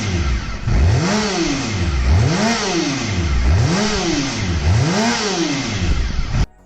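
A Honda NR750 oval-piston 90-degree V4 engine revs up and down four times in a steady rhythm, each swell rising sharply and dropping back, loud and close with no talking.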